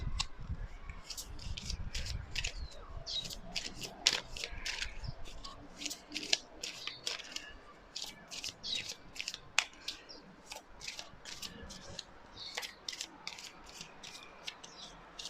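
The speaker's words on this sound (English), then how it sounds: "it's actually quite hard for me to tap into your energy while shuffling your oracle cards" Rapid, crisp riffling of oracle cards shuffled repeatedly in bursts, close up, with soft rustling and no talking.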